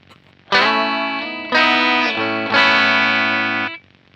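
Loud, heavily distorted chords ring out in four sustained bursts through a broken-amp saturation effect, the saturated tone buzzing with gritty overdrive before cutting off.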